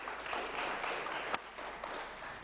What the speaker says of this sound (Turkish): eller ağrıdı vallahi alkışlamaktan